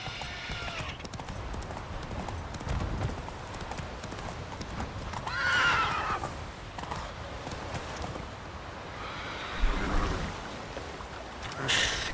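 Roach, a horse in the video game Witcher 3, trots with rhythmic clip-clopping hooves against a continuous outdoor ambience, with a brief whinny-like squeal mid-way.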